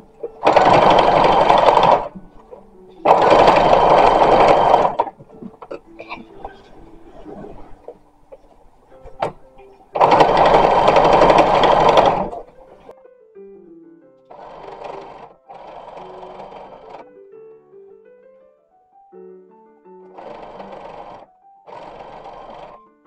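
Loud, close bursts of a sewing machine stitch over gathering on a 1916-style embroidered linen dress, three strong runs early on, then shorter, softer runs later, with fabric handling between them.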